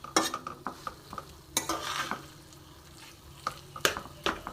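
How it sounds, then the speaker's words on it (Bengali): Stirring chicken cutlet mixture in a pan with a spoon, a series of sharp scrapes and clinks against the pan over a soft sizzle, close and fairly loud. "সুন্দরভাবে আমি এটা মিশিয়ে নেব।"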